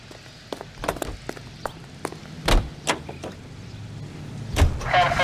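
A car in the LA Noire video game gives a low engine rumble beneath a string of sharp clicks and thuds of a door opening and shutting, with a louder slam near the end.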